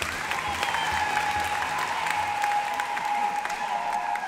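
A congregation applauding in St. Joseph's Cathedral during a Pentecost celebration: steady, dense clapping from many hands filling the church throughout, with no break.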